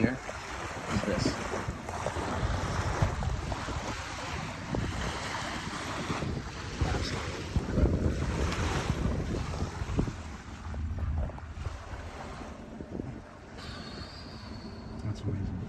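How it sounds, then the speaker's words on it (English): A small boat wake breaks and washes against rocks along a bay, heard from a quiet Rivian R1T electric pickup driving in New York; continuous sloshing surf mixed with wind rush, fairly close and steady. "there's a little wake breaking on the rocks to our left, and all you hear is the water"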